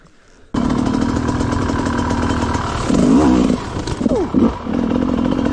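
An enduro dirt bike engine starts up and runs loudly nearby, revving up and down with a rough, buzzing drone.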